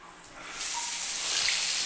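Water gushes hard from a bathroom tap in a one-bedroom apartment with a pedestal sink, starting softly then jumping to a loud, steady hissing rush for the rest.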